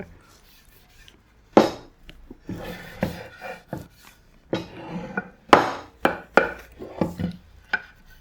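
Close-up scrubbing and scraping strokes on a wooden cutting board as old finish is removed, coming in irregular short bursts with pauses between.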